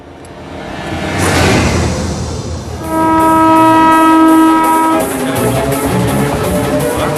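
The Charminar Express from Chennai to Hyderabad rumbles close by at a station, then a loud sustained horn blares for about two seconds over the rolling clatter of the passing train.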